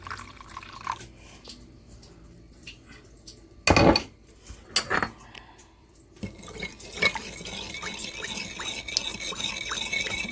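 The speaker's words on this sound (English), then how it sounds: "and then mix it until it is up." A spoon clinks and scrapes around a bowl of Jell-O powder and boiling water, with a few sharp knocks and sloshing liquid in between stirs, close and fairly quiet.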